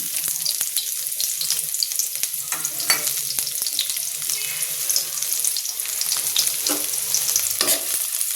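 Onions fry in hot oil with five-spice, dry chilli and bay leaf after cauliflower, a steady close sizzle with repeated stirring scrapes and light clatter throughout.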